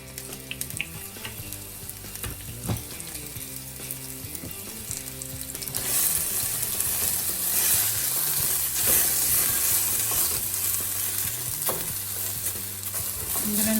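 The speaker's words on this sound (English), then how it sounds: "I'm gonna let this fry nice and crisp" Air-fried arvi (taro) fries in oil in a pan, a low bubbling at first that swells into a loud, steady sizzle partway through and holds to the end, with no talking.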